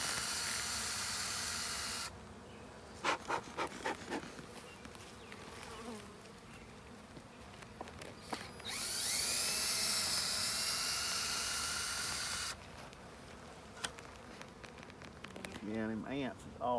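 A swarm of bees buzzes steadily and close by in a hive box outdoors, the dense drone rising and falling in loudness, with brief voices and handling noises now and then.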